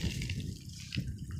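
A pebble dropped into the water of a well, giving a watery splash at the start and another splashing plop about a second later.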